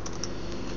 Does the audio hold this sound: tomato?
no